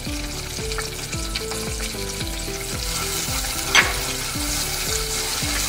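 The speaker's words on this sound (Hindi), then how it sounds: "इसमें मैंने ये 4 चम्मच भर कर मैं हरा मसाला वो डाल दूँगी, इसको थोड़ा सा भूनेंगे, इसका कच्चापन दूर हो जाए।" Spoonfuls of green masala frying in a pan, a loud, steady sizzle under a looping melodic tune, with one brief sharp clink partway through.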